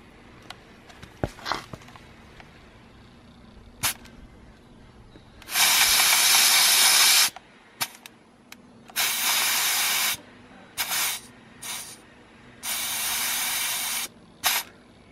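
Broadband air hiss as tire pressure is let out through the valve of a BMW, in several separate bursts of one to two seconds each, close and loud, with quiet gaps and small clicks between them.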